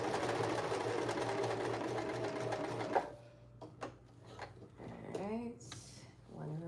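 A sewing machine stitching skirt fabric runs in a steady, close whirring burst for about three seconds, then stops; someone talks over the quieter pause that follows.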